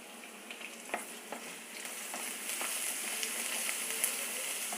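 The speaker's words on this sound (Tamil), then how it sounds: "வெங்காயம் கொஞ்சம் வதங்கட்டும்." Onions sauté in a pan with salt and asafoetida, giving a steady, soft sizzle. Occasional light scrapes and clicks of stirring rise through it, with no talk.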